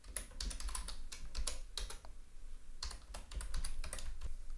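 Steady rapid typing on a computer keyboard while writing Python code, dense clicking keystrokes in quick bursts with a brief pause midway, close and clear with no voices.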